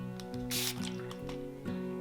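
A spray bottle mists water over chalk mineral paint, a short soft hissing burst in the middle with a few quieter spritzes and drips around it, close and fairly quiet.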